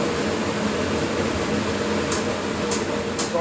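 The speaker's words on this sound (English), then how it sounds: "I'm just gonna turn it a real bit loud so it can suck out all" A kitchen exhaust fan runs on a high setting to pull cooking smoke out, giving a loud, steady broadband whoosh with a low hum throughout, plus a few faint clicks near the end.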